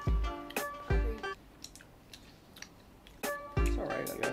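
Close, wet chewing of Japanese gum in short squishy bursts, with a quieter gap in the middle before the mouth sounds pick up again; someone talks between the chews.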